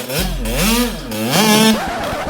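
A KTM SX125 two-stroke dirt bike engine revving hard, two rising-and-falling throttle blips close by and loud, with a bright buzzing tone sweeping up and down.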